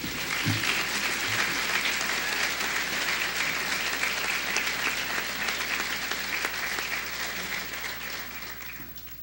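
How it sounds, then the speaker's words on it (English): An audience at an academic award ceremony applauds the recipients. A sustained, even roar of clapping fills the room for about nine seconds and fades slightly toward the end. "Let's give them another round of applause."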